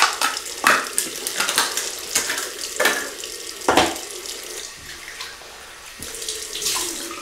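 Cold water runs from a tap into a sink nearby, splashing and gurgling unevenly as hands move through the stream, during a wet shave; there is no talking.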